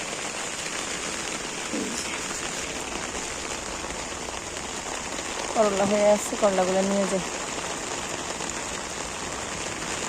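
Heavy rain drums steadily on leaves and ground in a rural garden with mango trees and bitter gourd vines, a constant close hiss while someone speaks briefly partway through.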